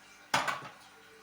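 A single quick clatter of washed dishes being set down on a towel, close and fairly quiet, fading out within a moment.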